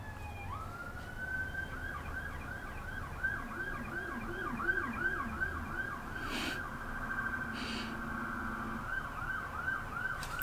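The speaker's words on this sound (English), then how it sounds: "Wait for the siren to pass." An emergency vehicle siren wails steadily outside, sweeping up and down in a repeated yelp pattern at moderate distance over low traffic rumble, with a second siren tone briefly overlapping midway.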